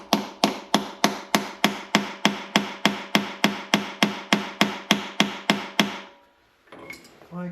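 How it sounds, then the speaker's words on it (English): Steady, evenly spaced hammer blows, about sixteen sharp metallic strikes in a row, close and loud, then a brief pause and faint handling noise. "I'm gonna hammer this in and hope that hammering is gonna loosen it"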